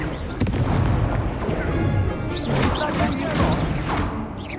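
Rapid spell blasts from Confringo, the fire-blast spell in the video game Hogwarts Legacy, boom and crackle loudly one after another over dense battle noise and layered game sounds.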